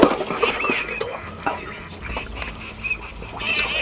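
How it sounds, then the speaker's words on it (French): Ducks call with scattered quacks over outdoor background noise during a duck hunt, with low voices murmuring in between. "3 autres canards viennent de passer et cherchent à poser."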